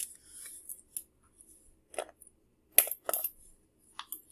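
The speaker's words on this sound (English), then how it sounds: "I put my pennies inside." Pennies dropped into a foil-wrapped egg carton vehicle, giving several sharp metallic clinks and rattles in separate bursts, with faint foil crinkling between them, close and otherwise quiet.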